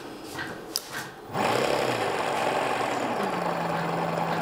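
A synchronous brushless electric motor powered by gel batteries through a controller starts up with a rising whine, then runs as a steady whirring buzz with a faint tone gliding upward, after a few clicks at the start.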